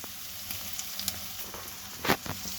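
Okra fries in a pan with onions and chopped chillies, giving a steady, soft sizzle with occasional louder crackles and stirring bumps and no talk.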